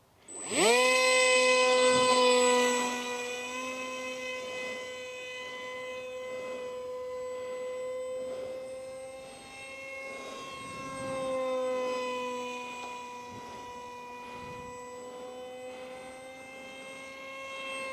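An RC F22 model jet powered by a 2700Kv electric motor whines overhead at full throttle, a bright steady tone that swells and fades slightly as it passes, with no talk.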